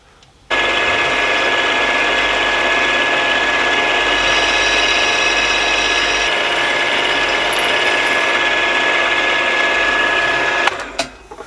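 A milling machine drills a clearance hole in the base of a Stuart S50 steam engine, a loud, steady mechanical whir with a ringing tone that starts abruptly, runs unbroken for about ten seconds, then stops with a clunk.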